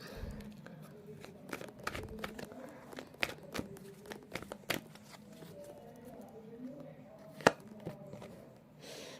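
Tarot cards being shuffled by hand, a run of soft riffling and flicking bursts with a few sharper card snaps, close and fairly quiet over a low room background.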